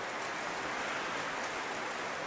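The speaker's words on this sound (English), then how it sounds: "It's raining really hard." Heavy rain pours down outside during an indoor gathering, a dense, constant hiss of falling water that stays loud and even throughout, with no voices or other sounds over it.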